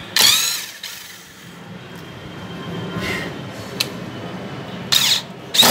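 A Rockwell power drill/screwdriver whirs in a few short, close bursts, with a quieter stretch of handling noise between the spurts.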